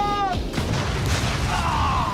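A World War II mortar fires, giving a heavy blast and rumble that dominates the clip, with excited voices shouting close by.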